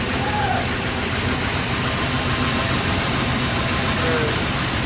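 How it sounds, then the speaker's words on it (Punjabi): A farm machine's engine runs at a steady, loud idle, an even mechanical drone throughout with a voice talking over it. "ਲਓ ਜੀ ਬਾਈ ਕਰ ਲਈ ਸਟਾਰਟ ਮਸ਼ੀਨ"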